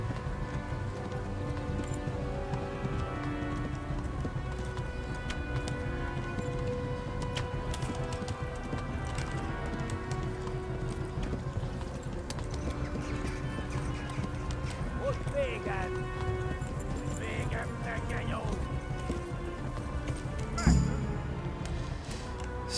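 Horse hooves clop steadily in Kingdom Come Deliverance, a continuous rhythmic clatter with rain-like patter over it, running under frequent talk and ending with a brief louder thump.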